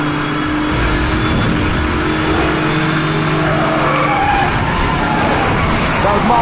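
Racing car engine roaring continuously with tire skids in Need for Speed Hot Pursuit Remastered, a steady loud mix of engine drone and scraping squeal, with a voice talking over it.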